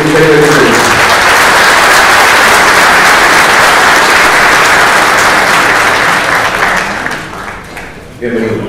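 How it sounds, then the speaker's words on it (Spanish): Steady, loud audience applause greeting a guest speaker at a cybersecurity legislative agenda event, dense and continuous for several seconds before tapering off, with a voice briefly heard at the start and close. "quiero que recibamos con un aplauso a Cristian Bravo"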